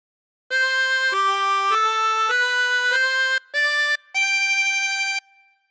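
Tremolo harmonica with 24 holes plays a phrase of God Defend New Zealand, a string of sustained, reedy notes with a few short breaks between them, clear and alone with no talking.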